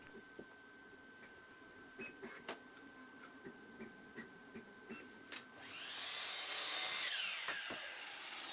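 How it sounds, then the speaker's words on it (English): A saw cuts through a 2x3 wooden board: faint ticking and light taps come first, then a single louder rasping cut swells for about two seconds and fades, with no talking. "go cut them in a pyramid shape, flipping the board between each cut"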